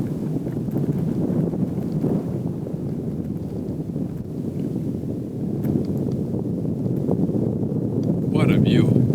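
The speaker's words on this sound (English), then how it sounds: "The wind's going to pick up here on me." Wind buffets the microphone at a canyon overlook on the Pothole Point trail in Canyonlands National Park's Needles district, a constant low rumbling gust throughout, with a person speaking briefly near the end.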